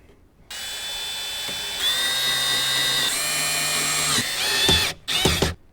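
A power drill drives screws into a speaker mount inside a Toyota Tacoma during a Kicker plug-and-play speaker install, whirring loud and close in several sustained runs, then two short bursts at the end.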